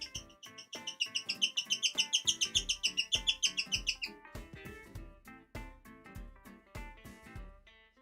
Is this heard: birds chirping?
yes